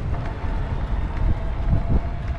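Steady rushing wind buffets the microphone with low rumbling gusts, a continuous broadband roar that swells and dips while heading into the wind, with no voices.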